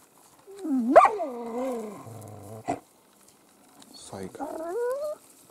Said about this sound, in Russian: Собаки собрались.